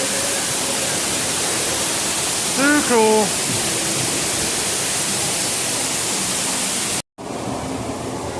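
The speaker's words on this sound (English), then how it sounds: "The waterfall." A waterfall on the Pirates of the Caribbean ride at Walt Disney World's Magic Kingdom roars as a loud, steady wash of noise, with a brief voice over it and a sudden cut near the end.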